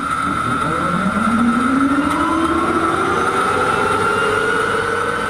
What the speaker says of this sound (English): Hearing the turbine engine from one of the Firebirds start up is sort of eerie.